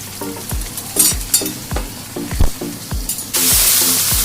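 Ginger-garlic paste frying and being stirred into browned onions in a pan for a Bangladeshi shing fish curry with drumsticks and potatoes, a steady sizzle broken by repeated scraping spoon strokes, then a louder hiss near the end.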